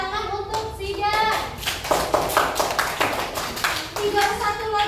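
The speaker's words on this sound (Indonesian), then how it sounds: "Tepuk tangan untuk Sigar." Primary school children clap their hands together in a classroom, a rapid rhythmic patter that grows louder and steadier, while a voice and other voices sing and talk over it.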